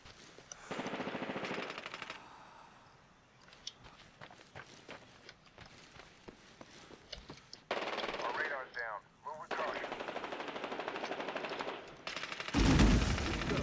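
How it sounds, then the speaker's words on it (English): Gunfire rattles in Medal of Honor Warfighter: bursts of machine-gun fire come in separate stretches, with some nearer and louder, and footsteps fall between them. A loud burst closes the stretch. "Someone's shooting at me."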